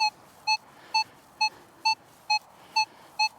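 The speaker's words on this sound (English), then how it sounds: "Minelab tones" A Minelab metal detector sounds its target tone over a silver dime in a depth test, eight evenly spaced, clear electronic beeps about half a second apart, loud and close, with no talking.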